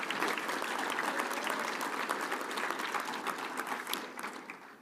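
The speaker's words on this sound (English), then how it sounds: "So round of applause for them." Dense, steady applause for the ITC team honored in the 2024 ArcGIS Story Maps competition for planning and infrastructure, fairly quiet and slightly distant, tapering a little toward the end.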